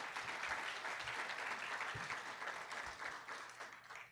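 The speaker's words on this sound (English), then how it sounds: "Let's give Mike and Les a round of applause" Applause from an audience at a nonprofit summit, a dense wash of clapping heard faintly and at a distance, steady throughout with a few low thumps underneath.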